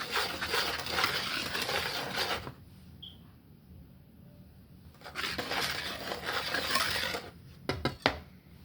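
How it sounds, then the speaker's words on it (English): Dry cupcake ingredients are stirred in a bowl, making two stretches of close, gritty scraping separated by a quieter pause, with a few light clinks near the end. "I'm gonna go ahead and stir that in. Make sure that's combined. All our dry ingredients."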